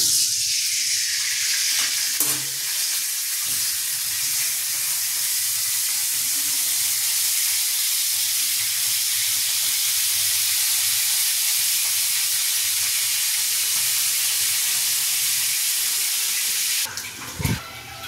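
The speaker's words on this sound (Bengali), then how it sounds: "এবার ঝাল করার জন্যে এই যে তেল, শুকনো লঙ্কা, কালো জিরে ফোড়ন দিচ্ছি" Dried red chillies and nigella seeds crackle in hot mustard oil as a tempering for a hilsa fish curry, making a loud, steady, close sizzle that hisses for a long stretch and ends with a few clattering knocks.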